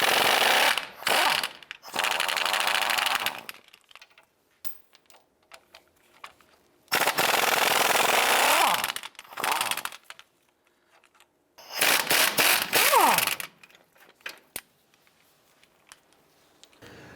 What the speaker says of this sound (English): Using a 15mm socket, we're going to go ahead and remove this hub bolt here